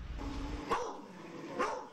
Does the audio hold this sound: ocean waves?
no